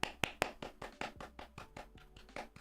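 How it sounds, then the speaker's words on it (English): Hands applauding during a Man City vs Bayern Munich Champions League watchalong, a steady run of about a dozen close, distinct claps, fairly quiet with no talk over them. "I'm applauding"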